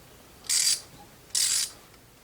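A ratchet turning a spark plug socket on a Jeep YJ engine makes two short, crisp bursts of rapid clicking about a second apart, close and clear in an otherwise quiet space.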